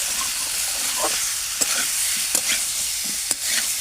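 Potatoes and green peas being sautéed in an open pan, a steady bright sizzle throughout with several sharp spatula scrapes and taps against the metal at irregular intervals.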